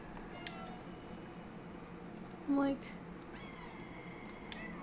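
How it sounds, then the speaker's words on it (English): A cat in the video game Stray gives a couple of faint, plaintive meows against quiet background noise, with a person briefly speaking in between. "you can hear the meow"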